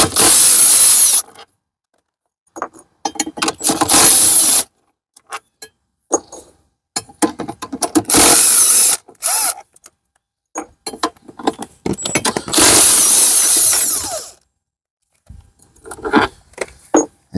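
A 13 mm socket wrench on the nozzle bolts of a 1997 GSI 717 jet ski during teardown, with loud close ratcheting bursts, metallic clinks and tool handling between pauses, and no talking.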